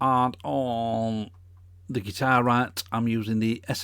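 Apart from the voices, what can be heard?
None of the usual background noises is heard.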